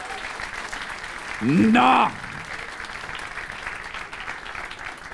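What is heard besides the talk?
audience applause for Camilla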